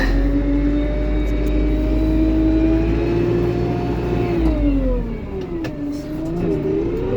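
A Lovol P4110 tractor engine pulls away in first gear, a loud, close diesel drone whose pitch climbs steadily, dips briefly, then rises again as it gathers speed, with no talk.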